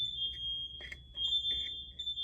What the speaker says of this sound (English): Like, oh, fire alarm.